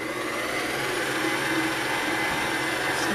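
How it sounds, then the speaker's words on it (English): A steady, loud mechanical whir, likely an electric mixer, blending dinner roll dough made with active dry yeast and butter, running continuously and unchanged throughout with no voices. "Then we're going to give this a good mix."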